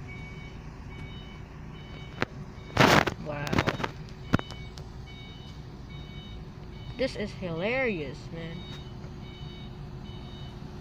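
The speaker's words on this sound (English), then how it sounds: "What a beep, beep, beep, beep, beep, beep." Someone talks briefly while a reversing truck's steady series of high electronic beeps repeats in the background, with wind noise and passing outdoor sounds.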